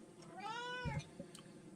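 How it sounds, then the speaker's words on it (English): A cat named Toby gives a single rising-then-falling meow, fairly close and clear, with no talk over it. "Or Toby, who never stops meowing?"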